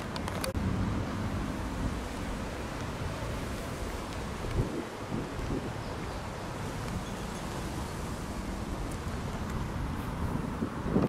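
Steady, rushing wind buffets the microphone at a seaside fort in Lisbon, Portugal, a continuous low roar with faint gusts and no voices.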